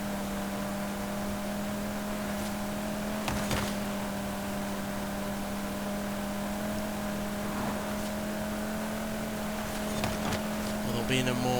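Cupra Formentor VZ5 with a petrol engine racing in Forza Horizon 5, a steady droning engine tone held at high revs with small shifts in pitch and faint clicks, running throughout.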